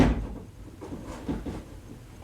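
A damaged bi-fold door being pushed up into its bracket, giving dull knocks and a scraping shift close by, with a sharper clack at the end and no speech.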